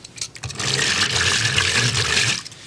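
Paper pulp mixed with wallpaper paste and water is churned by kitchen beaters: a steady, wet, sloshing rush that swells after a brief start and holds at an even level for about two seconds.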